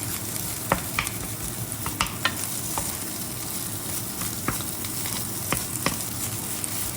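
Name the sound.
stir frying rice in a pan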